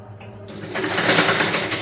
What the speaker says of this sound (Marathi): सावकाश शिवत जायचं, जेणेकरून तुमची पट्टी ही मागची सरळ बसली पाहिजे